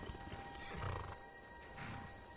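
Horse in the Skyrim video game giving a soft, distant whinny with a few hoof clops over a faint background hum, no talking.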